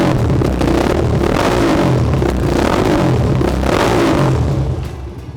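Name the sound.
modified Royal Enfield Bullet motorcycle revving, barrel exhaust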